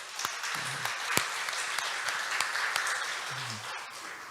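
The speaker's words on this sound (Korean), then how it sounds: "우리 주님께 영광의 박수 한번 드립시다." Church congregation applauding during a Sunday worship service in Busan, a dense steady patter of many hands with a few sharper individual claps, some faint voices mixed in.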